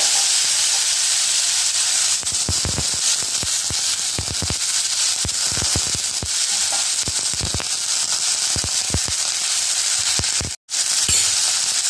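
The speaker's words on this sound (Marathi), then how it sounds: "थोडीशी हळद टाकते थोडं फिरवून घेते आणि लगेच याच्यावर टाकते हे फुलं" Ambadi flowers hit a hot pan with turmeric and sizzle loudly and continuously, with a steady hiss broken by sharp crackles and pops, and no one speaking.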